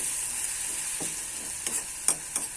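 Turmeric and spices fry in a wok with a steady, close hiss, and a few soft scrapes of stirring come through near the end.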